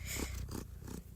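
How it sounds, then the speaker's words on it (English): An orange fluffy cat purrs loudly and close up, a steady rumbling vibration with a regular breathing rhythm, heard alone. "She's purring pretty loudly right now."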